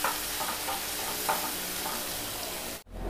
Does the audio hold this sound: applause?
no